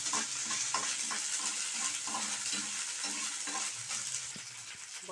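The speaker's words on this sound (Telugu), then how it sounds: "ఒక స్పూను అల్లం వెల్లుల్లి పేస్టు బాగా కొంచెం వేగిన తర్వాత" Ginger garlic paste fries in a pan with a steady bright sizzle, while a spoon stirs it in soft repeated scrapes.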